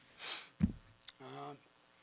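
A coach sniffling at a college football postgame press conference, with a few short quiet sniffs and breaths close to the microphone, near some brief voice-like sound.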